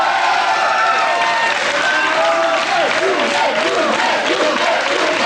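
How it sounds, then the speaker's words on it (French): A studio audience at a 1996-97 school quiz show applauds the Collège Notre-Dame Tournai team with thick, continuous clapping mixed with crowd voices and some cheering throughout. "Voilà, on peut les applaudir, les Tournaisiens"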